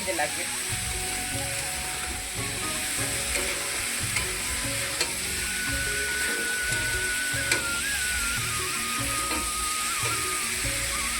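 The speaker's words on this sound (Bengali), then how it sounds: "আমার চিকেনটা এখন ভেজে নিলাম" Chicken frying in a pan, a loud, dense sizzle that runs without a break, with occasional clinks of a utensil and a faint tonal whine partway through.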